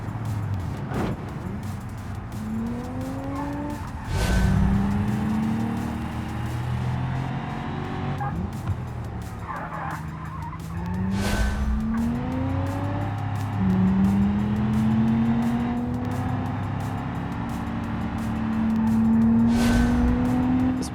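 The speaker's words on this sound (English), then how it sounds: "Some heat into those rear tires this time. Over rev the motor a little bit" In the BeamNG driving game, a car engine revs hard and climbs repeatedly through gears while the rear tires spin, with rising whines, brief shifts and steady loud engine noise.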